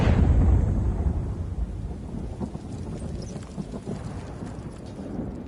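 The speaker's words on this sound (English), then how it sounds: "There is a storm coming." A thunderstorm in the Dreams video game brings a rolling rumble of thunder that fades slowly into a steady patter of rain. No one speaks.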